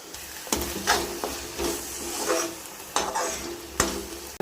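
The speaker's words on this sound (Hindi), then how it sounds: "हमें इसको प्रॉपर चलाते रहना है एंड तक" Waterleaf (talinum) saag fries in oil in an Indian-style pan as a spoon scrapes and stirs it in repeated strokes over a close, continuous sizzle.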